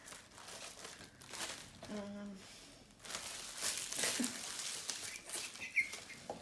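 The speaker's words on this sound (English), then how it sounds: "you need to unwrap them, take one out" A plastic PPJoe Pop Protector is unwrapped from its packaging, giving soft, close crinkling and rustling that rises and falls, with a person talking at points.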